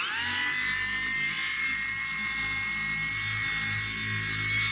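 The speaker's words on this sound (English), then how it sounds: "This is a handheld polisher." Amazon 20V cordless handheld buffer polisher running on a low speed setting, a steady close electric whine with a constant motor hum that holds without pause.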